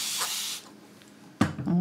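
Acrylic paint being misted with water from a spray bottle: a close, steady hiss runs for about half a second, then the room quietens until a brief clatter and handling noise near the end.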